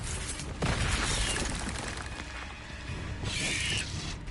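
Confringo blasting spell exploding in the Hogwarts Legacy video game: two loud, crackling bursts, the first sharp and booming, the second a brighter shattering blast a few seconds later, over steady game ambience.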